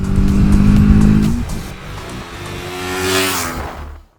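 A TVS Apache RTR 310 motorcycle engine revs up with a rising, throaty roar, eases off, then builds again to a higher-pitched pull before cutting away.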